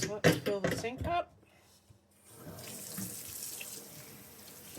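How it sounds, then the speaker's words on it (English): Warm water runs from a tap into a sink for washing dyed wool fibre, a steady gushing hiss that follows a short burst of talk and continues alone at moderate level. "so let's fill the sink up"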